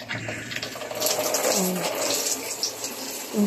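Water running from a shower in a home bathroom with a newly installed toilet bowl, a soft, steady hiss and splash of flow that continues at a moderate level throughout.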